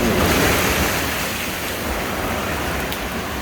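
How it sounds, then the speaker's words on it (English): Big ocean waves crash onto rocks along the Puerto Galera coast, a loud, dense roar of surf and spray that swells at the start and then keeps churning steadily. "a big wave will start to work its way in, and man, it hits this and just blows water all over it"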